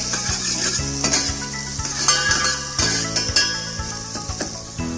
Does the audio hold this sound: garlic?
yes